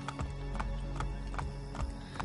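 A horse's hooves clip-clop at a steady walking pace in the Assassin's Creed Brotherhood video game, close and regular with a faint mechanical rattle underneath, and no talk.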